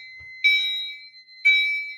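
Two chime strobes of a home fire alarm demo system, mounted within ten feet of each other, sound two bright electronic chime tones about a second apart, each ringing out and fading, with a steady high tone running underneath.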